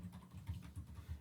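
Quiet keystrokes on a computer keyboard while typing Python code, a faint run of soft, evenly spaced clicks close by with no speech.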